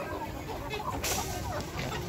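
Free-range chickens on a Mekong Delta farm cluck and murmur softly and continuously in an evening coop, a steady low flock chatter with no talking.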